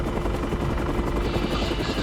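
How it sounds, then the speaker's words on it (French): A Dauphin helicopter hovers low over a boat at sea, its dense rotor thrum and turbine whine steady and loud throughout, with no pause. "Franck, qui pilote sans visibilité sur la position du Dauphin, veille à ne pas varier de vitesse"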